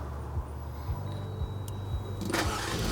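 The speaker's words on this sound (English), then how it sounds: "So the vehicle started, everything's up and running." A 2018-or-later Jeep Wrangler cranks and fires via an aftermarket remote start, a short close starter churn followed by the engine catching and settling into idle, with no talk.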